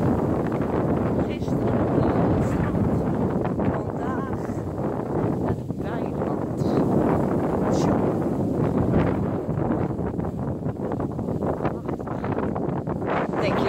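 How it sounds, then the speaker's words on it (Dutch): Strong wind roars and buffets the microphone in continuous gusts, a rough, rushing noise with no calm between blasts. "Denk je dat ik het gehad heb met die harde wind de hele dag?"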